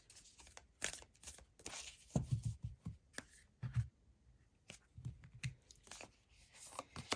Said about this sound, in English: We are going to begin with the Moonology Oracle deck.